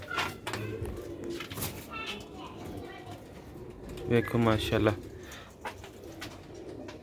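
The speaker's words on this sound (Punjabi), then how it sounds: "ਇਹ ਦੇਖੋ ਇਹ ਜੇ ਕੁਆਲਟੀਆਂ ਸਿਆਲਕੋਟੀ ਕਬੂਤਰਾਂ ਦੀ" Sialkoti pigeons at a breeder's loft coo in soft, repeated rolling calls, close by, with someone talking over and between them.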